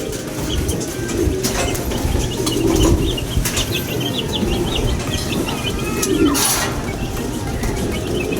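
A racing pigeon comes in to land during the final lap of a race in Calbayog, with flapping wings against a steady outdoor wash of broadband noise and faint bird chirps, moderately loud and continuous.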